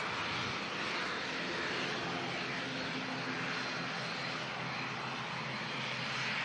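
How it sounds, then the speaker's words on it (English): An Air Baltic Airbus A220-300 taxis onto the active runway at Manchester Airport for departure, a steady distant engine roar blended with broadband wind noise, constant throughout with no talking. "we have the Air Baltic. Just entering the active runway now for departure."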